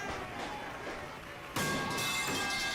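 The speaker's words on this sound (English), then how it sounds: "Pipe falling." A metal pipe falling sound effect plays during a late-night gaming stream: a dense, soft clattering bed gives way to a sudden loud, bright crash that rings on with metallic clang for over a second.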